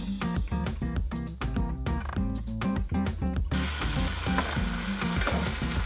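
Canned tomatoes with garlic, oregano and basil sautéing as the base of a fish stew: clattering, stirring knocks give way to a steady, close sizzle that fills the second half without talk.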